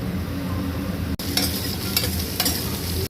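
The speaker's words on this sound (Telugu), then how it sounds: "ఇది గోల్డెన్ బ్రౌన్ కలర్ వచ్చే వరకు ఆనియన్ వేయించుకోవాలి" Onions fry in oil and ghee with biryani spices in a pot for jackfruit biryani, sizzling steadily and close up, with several sharp stirring scrapes and clinks at irregular gaps.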